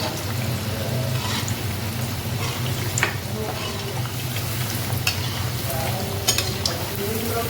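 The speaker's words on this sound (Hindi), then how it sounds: "कढ़ाई भी प्री हीट थी फ्लेम को मैंने मीडियम रखा हुआ है जिससे अच्छे से बिल्कुल क्रिस्पी करारी हो जाएंगे" Aloo rice crispy snacks frying in a preheated kadhai over a medium flame, a steady dense sizzle with bubbling oil and occasional sharp crackles and pops, continuous and close.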